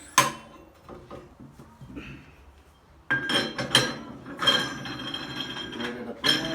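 Metal clinks and clanks as a cone is fitted onto the shaft of a Coats 1300 wheel balancer for a steel rim, with a sharp ring at the start and a denser clatter of contact in the second half.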